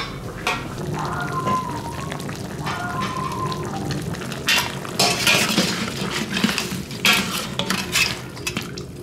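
A metal wok scraped and knocked as braised pork is dished out in a home kitchen, giving loud clattering of dishes and utensils with sharp clinks and scrapes in irregular bursts, and some background voices and noise underneath.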